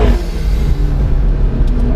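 McLaren 650S in sport setting with traction in normal, its engine droning steadily and loudly with a strong low rumble as it pulls out of a corner, with no speech over it.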